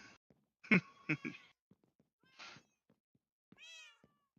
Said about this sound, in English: Hey, look, several cats.